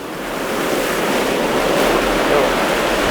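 Ocean waves break on a reef in a steady, roaring wash of surf mixed with wind buffeting the microphone, loud and continuous throughout with no voices.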